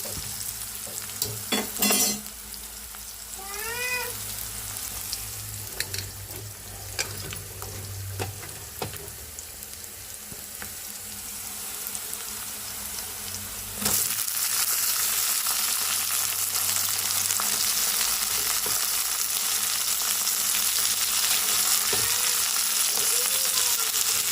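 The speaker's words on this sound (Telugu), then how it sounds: "టమాటా పచ్చి టమాటా పచ్చిమిర్చి ఉల్లిపాయలు కరేపాకు అయితే బాగా వేగినాయి కదండి ఇప్పుడు కలిగేసుకుందాం" Tomato, green chili, onion and curry leaves fry in a pan, a steady sizzle with intermittent scraping stirs and light utensil knocks, the hiss growing louder and denser partway through.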